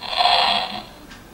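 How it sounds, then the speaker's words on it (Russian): Interactive Limo Toy baby doll giving off a soft breathing sound as it sleeps, one slow breathy exhale of about a second, then a faint second breath, close and quiet. "Дышит, ты слышишь, она дышит во сне."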